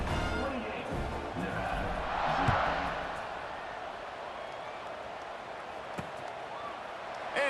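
Home stadium crowd in the EA Sports College Football 26 video game, a steady broadband roar of cheering that swells briefly near the middle and then settles into a continuous wash.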